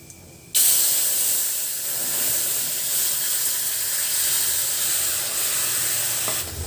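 Tamarind mixture poured into a hot pan with asafoetida for a sweet-sour pani puri water, giving a sudden loud steady hiss and sizzle that holds for several seconds before dropping off.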